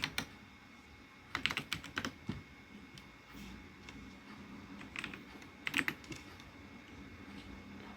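Fingers tapping on a computer keyboard while entering router configuration commands in Cisco: quiet, uneven keystrokes arriving in short clusters over low room hiss, with no voice.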